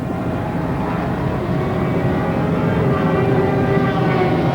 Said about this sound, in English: Roger Dundas in the SBS chopper goes overhead and casts his shadow over Robbie Phyllis